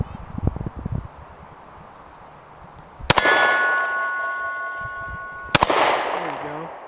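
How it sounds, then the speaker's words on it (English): Two sharp Taurus G3c handgun shots, each followed by a bright ringing clang from a steel hostage popper target, about two seconds apart, with faint rustling and handling sounds before the first. "Let's see how this thing does with the old hostage popper."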